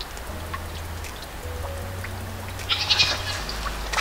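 A goat bleats briefly near the end over a low steady hum and soft pattering, with a few faint background noises before it.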